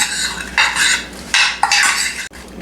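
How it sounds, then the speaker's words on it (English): Apples stirred with brown sugar and butter in a baking dish: loud, close scraping and clinking strokes come in three or four bursts, ending with a sharp knock. "Now I'm going to go ahead, I'm going to stir them around in there."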